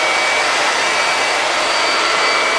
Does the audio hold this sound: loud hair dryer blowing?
yes